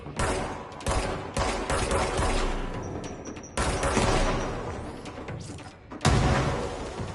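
Gunfire and grenade blasts in the video game Control: rapid bursts of shooting with heavy thumping explosions, loud and close, several abrupt bangs separating the volleys, no talking.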